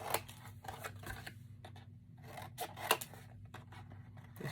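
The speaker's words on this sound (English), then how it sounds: "now we're going to cut our corners." Scissors cut the corners of material for a book spine in a few short, sharp snips close by, with quiet pauses and light handling noise in between.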